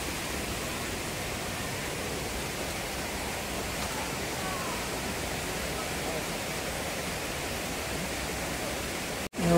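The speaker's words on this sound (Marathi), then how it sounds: "या खाचेत दब पडतो धबधबा" The Satsada waterfall in the Western Ghats drops into a narrow rock gorge, a steady broadband rush heard from a distance that stays even throughout before cutting off abruptly at the end.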